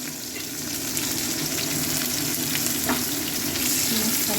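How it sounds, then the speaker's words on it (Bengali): Onions fry in hot oil with whole garam masala in a kadai, a steady, close, continuous sizzle and hiss with a few soft scrapes, and no voices. "পেঁয়াজটা লাল লাল করে ভাজবো।"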